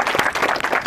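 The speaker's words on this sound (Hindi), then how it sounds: "एक बार तालियां बजा दो।" Brief burst of clapping from an audience at a ceremony honouring army and CRPF selections, close and fairly loud, lasting under a second.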